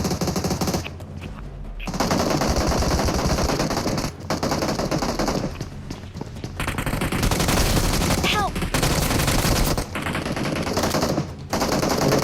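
Gunfire in the PUBG Mobile battle royale game: dense, sustained automatic bursts and overlapping shots rattle on almost without pause, loud and close, with short gaps and faint voices underneath.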